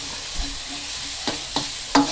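A spatula scrapes and stirs garlic and shallots in a wok, with a few sharp scraping strokes over a soft, steady sizzle of frying.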